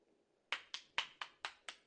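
Six crisp hand claps in a steady rhythm from a single person, close and fairly quiet, after a short silence, heard in the Steins;Gate 0 video game.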